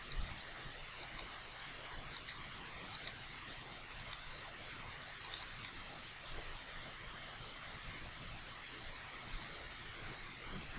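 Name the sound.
computer mouse clicking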